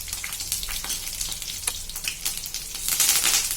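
Green chillies and mustard seeds fry in hot oil for ridge gourd chutney, a continuous crackling sizzle with sharp pops and spluttering bursts that intensify toward the end, with no talk.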